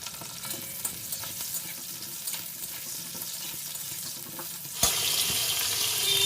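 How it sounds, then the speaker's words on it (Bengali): Potatoes frying in mustard oil in a kadai wok make a steady close sizzle with faint stirring scrapes, swelling abruptly into a louder, brighter hiss for the last second and a half, with no voices. "এবার কড়াইয়ে 4 চামচ সর্ষের তেল দিয়ে আলুগুলো ভাজতে দিয়ে দেবো।"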